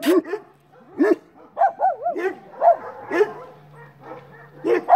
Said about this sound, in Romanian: Asta da, câine ciobănesc.